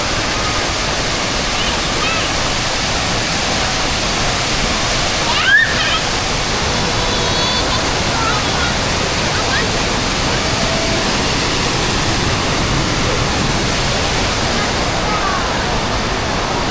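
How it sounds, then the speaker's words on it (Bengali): A water fountain at a market in Malaysia splashes in a loud, continuous, steady rush, with one brief sharp sound partway through. "পানির ঝর্ণাটা কিন্তু মাশাআল্লাহ অনেক সুন্দর লাগছে।"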